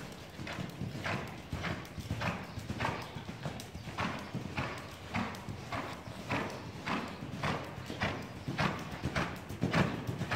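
A horse's hooves clip-clop in a steady regular trot, crisp and close, with faint background noise and no talk.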